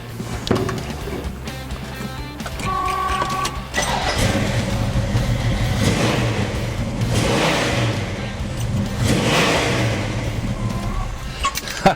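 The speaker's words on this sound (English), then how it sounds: "went ahead and hit the gas one time, turned the key, and it fired right up" Car engine fitted with a Street Demon carburetor cranks, fires up and revs, a loud steady running roar with rising throttle swells, close by with no talk.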